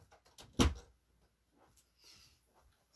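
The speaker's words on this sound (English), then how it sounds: "The door is open. I'm going to close the door." An indoor door shuts with a single sharp, close thud, followed by faint room quiet.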